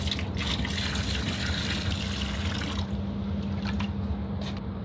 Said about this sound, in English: all I'm gonna do is provide a generous donation of water to this basin